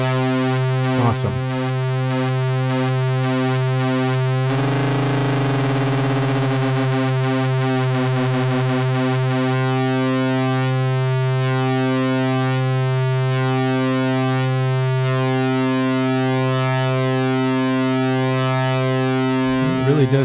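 A synthesizer oscillator under pulse width modulation holds a bright buzzy tone that shifts into a harsher, sync-like sweeping timbre, with rhythmic pulsing partials repeating steadily throughout.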